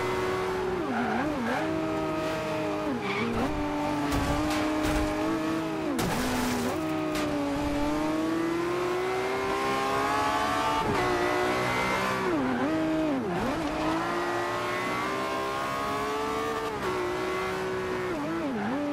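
A McLaren race car accelerates in Forza Horizon 2, its engine loud and steady, revving and shifting through rising and falling pitch sweeps, with brief tire squeal.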